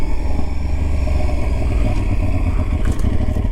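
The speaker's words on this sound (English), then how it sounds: "The engine's a little bit raw, I have to say, but it's not vibey." An Aprilia Tuareg 660 motorcycle's parallel-twin engine runs continuously, a dense low throb with some rasp, steady and loud without pauses or speech.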